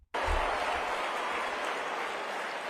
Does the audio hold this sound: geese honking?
no